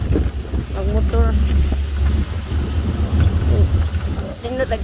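Motorboat engine droning steadily on a day boat trip, with strong wind rush against the microphone and snatches of voices talking over the engine throughout.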